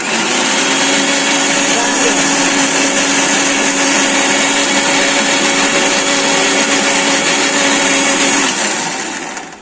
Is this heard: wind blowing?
no